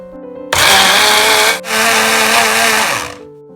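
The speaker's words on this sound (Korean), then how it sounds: "계란 2개를 믹서기에 넣습니다." A blender runs loud and steady, whirring as it mixes two eggs with brown sugar for a flourless carrot and oatmeal bread, with a brief dip in the middle before it winds down. No one speaks.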